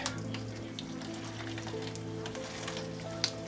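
A steak sears in hot, thin oil in a pan with a steady close sizzle and faint crackling pops, continuous and fairly quiet, with one sharp tick near the end.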